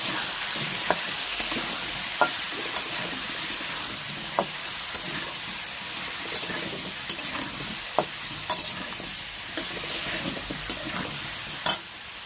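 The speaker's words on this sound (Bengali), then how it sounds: "দিয়ে দেবো হলুদ, দিয়ে এটাকে ভেজে নেব।" Spices sizzle and fry in a pan with salt and turmeric for Bengali khichuri, a steady close hiss broken by frequent light clicks and scrapes of stirring, with no talk.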